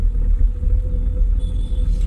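Car engine pulling away gently on a driving school lesson, a low close rumble that swells and dips slightly over a couple of seconds.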